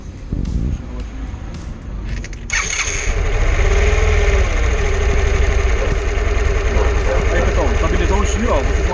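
A Suzuki Burgman AN 125 scooter engine with a freshly rebuilt carburetor starts after some cranking and settles into a steady, close, buzzing idle while someone talks over it.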